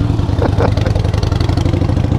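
Motorcycle exhaust revving in a rev bomb on a street ride, a loud, steady engine roar with rapid pulsing throughout, close and continuous.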